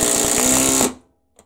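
Bosch GDR 18V-EC brushless cordless impact driver driving a screw at top speed without a pre-drilled hole, giving a loud, dense rattling hammer for under a second before cutting off abruptly, followed by a faint click.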